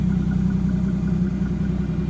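A car engine idles steadily with its exhaust note, a constant low rumble that stays even and fairly loud throughout, with no talking.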